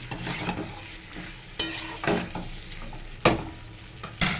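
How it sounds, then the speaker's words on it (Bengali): Pointed gourd and prawns are stir-fried with spice paste in a pan, a steady sizzle broken by several sharp scrapes and clacks of a spatula against the pan, fairly close, with no talking. "চলো এটাও ভালো করে আমি কষিয়ে নিই।"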